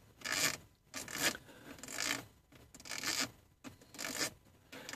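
The volume dial on a Mercedes car radio is turned back and forth to clean corroded contacts, giving close, rhythmic scratchy rasping strokes about twice per second with brief pauses between.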